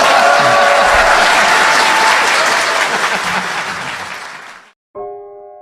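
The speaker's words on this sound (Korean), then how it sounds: "박수 부탁드립니다." A studio audience breaks into loud, sustained applause that gradually fades out, followed briefly by an unrelated musical tone.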